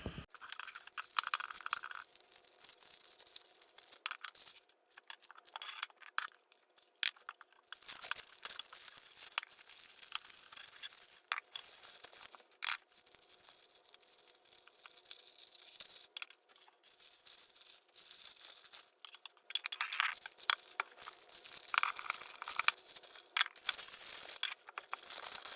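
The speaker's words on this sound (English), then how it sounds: "So let's start by unwrapping some of this stuff that I packed up." Halloween decorations are unwrapped from their packaging, with close, continuous crinkling, rustling and tearing of wrap in irregular bursts that get louder toward the end.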